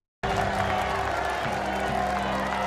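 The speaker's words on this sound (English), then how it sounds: "Look at this, everybody applauding." A royal court audience in a Tudor-era drama breaks into applause and crowd murmur, a steady mid-level wash of clapping and voices that begins abruptly and holds under a low background tone.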